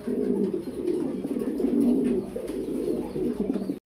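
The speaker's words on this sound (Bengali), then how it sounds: "খুব সুন্দর একটা মাদি কবুতর জ্যাকোবিন" Jacobin pigeons coo in low, rolling, continuous murmurs at close range, a soft burbling chorus with no speech.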